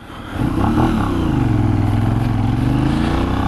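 A 2020 Benelli 752S motorcycle engine revs up and roars steadily at speed on a motorway, loud and close, with a throaty drone that holds through to the end.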